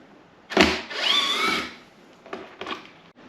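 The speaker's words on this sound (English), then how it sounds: "So now I'm gonna take these the bolts out of the airbox" Power tool loosening bolts on the airbox of a 2022 Yamaha XSR900 motorcycle: a short sharp whir followed by a longer buzzing run and two brief bursts, close and fairly loud.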